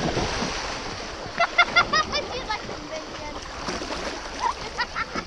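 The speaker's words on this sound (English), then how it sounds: "how you jump out of one canoe and swim to the next canoe and climb in" A person leaps from a canoe into a river in the Ardeche and swims to another canoe, giving a rapid run of splashes and strokes over moving water while a voice talks throughout.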